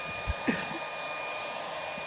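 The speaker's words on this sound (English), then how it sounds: "you are going to place him on top of the hairdryer" A hair dryer blows a steady, moderately loud stream of air during a children's STEM demonstration, its even whooshing hum continuing with a couple of faint knocks near the start.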